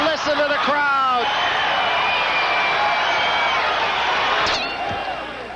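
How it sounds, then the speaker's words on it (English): A boxing arena crowd at the Riviera in 1985 cheers loudly at the close of the Larry Holmes versus Michael Spinks fight, a sustained roar with whistles and shouts that fades slightly near the end, with a voice speaking over it at the start. "Listen to the crowd."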